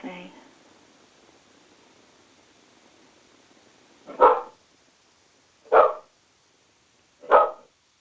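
A dog barks three times in separate, evenly spaced single barks, moderately loud and close, after a short bit of quiet background.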